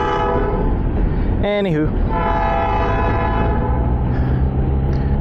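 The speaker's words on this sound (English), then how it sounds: "Also, that's probably really loud. Might be able to see the train." A train passes a motorcycle cruising through a busy town, with a loud horn blast midway over a steady engine and wind roar. Rolling rail clatter continues, and a rider speaks briefly.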